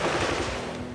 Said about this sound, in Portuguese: E voltam os tiros.